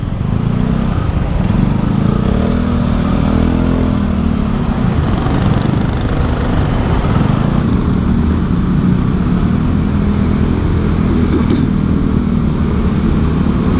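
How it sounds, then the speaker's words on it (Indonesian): Dense rumbling traffic in a Jakarta jam, cars and motorcycles idling and creeping together in a loud, continuous engine drone that holds steady throughout. "Sore-sore di Jakarta, wah, macet banget, males."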